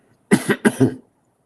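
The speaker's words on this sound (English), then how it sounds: "I'm coughing a little bit" Two quick, close-up coughs in succession, each with a double burst, followed by silence.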